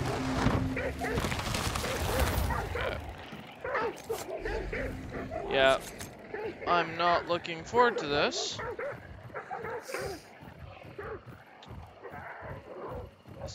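Dogs barking and whimpering in a horror video game, repeated yips and barks throughout while someone talks over them.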